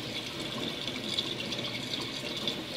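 Running tap water rinsing liquid soap off hands over a sink, a steady soft gushing splash, close and fairly quiet, with no talking.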